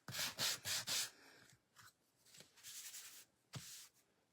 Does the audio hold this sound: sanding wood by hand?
yes